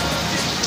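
Rain falling steadily in a short burst, a dense loud hiss of drops striking surfaces with no other sound standing out.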